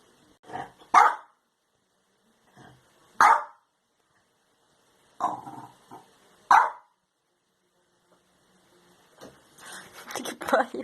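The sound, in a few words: dog barking and growling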